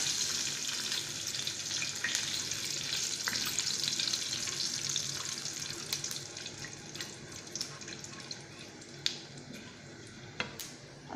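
Asafoetida and cumin seeds hit hot oil for an aloo matar curry, giving a loud, steady, close sizzling hiss that runs throughout with a few sharp crackles near the end; no one speaks.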